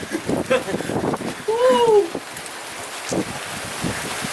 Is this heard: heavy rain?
yes